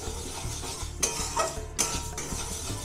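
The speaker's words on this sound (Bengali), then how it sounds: "মুগের ডালটা একটু ভেজে নেবো কড়াইতে, তারপরে বসিয়ে দেবো, একটু নাড়াচাড়া করে নেব" Moong dal being dry-fried and stirred in a wok, a steady close scrape and rustle with a couple of sharper clinks of the utensil against the pan.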